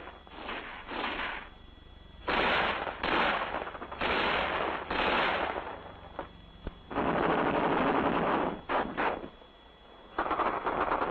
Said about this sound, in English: machine guns increase their rate of fire on the enemy